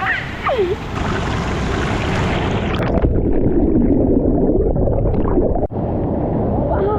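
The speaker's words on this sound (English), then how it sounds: "And this is like the river plus the waterfall." A mountain river and waterfall in Himachal rush loudly and steadily, a close, continuous broadband roar filling the scene, with brief squeaky sounds near the start.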